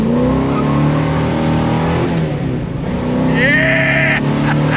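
A 440 V8 engine in a 1970 Dodge Challenger R/T revs hard on the throttle, a loud sustained roar climbing in pitch near the end, close and continuous.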